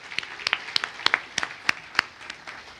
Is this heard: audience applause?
yes